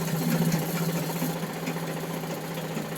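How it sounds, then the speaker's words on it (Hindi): A sewing machine stitching close to the edge of a petticoat belt, giving a steady mechanical hum with a low, even drone throughout, running alone without talk. "एकदम किनारे पे मशीन चलानी है"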